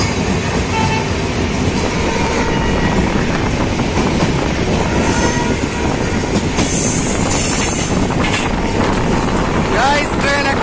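A train rolls across the Sayedabad rail gate, heard from on board as a loud, steady rumble with rattling carriages and wind noise running unbroken throughout.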